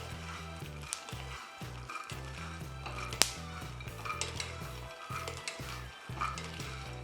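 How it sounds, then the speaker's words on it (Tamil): Makhana, cashews and almonds fry in a pan with a steady close sizzle, broken by frequent clinks and scrapes of a utensil stirring against the metal. "அதே மாதிரி முந்திரி, பாதாம் எல்லாமே வந்து ஃப்ரை ஆகுது பாருங்கள்."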